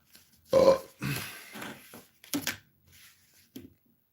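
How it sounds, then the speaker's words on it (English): A man burps loudly several times, one long throaty belch followed by shorter rumbling ones and a final small burp, close to the microphone with quiet gaps between. "See how I burp like Elon?"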